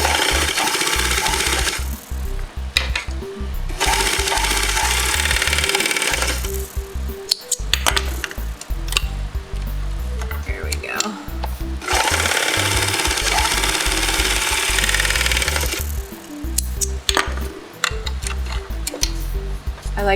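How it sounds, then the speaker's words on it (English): An overlock sewing machine stitches neoprene fabric in loud, steady mechanical bursts of rapid ticking whir, each running a few seconds and separated by short pauses. "Okay, so we're going to overlock."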